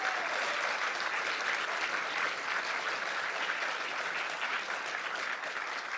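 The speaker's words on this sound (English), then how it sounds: "let's give him a round of applause" A talk audience gives a programming-language author a sustained round of applause, dense, steady clapping filling the room for about six seconds with no voices over it.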